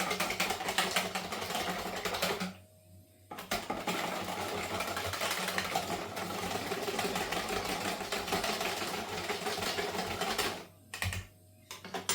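Yorkshire pudding batter with extra milk is whisked hard, a near, fast, buzzing mechanical whir that runs continuously with two brief pauses, and no speech.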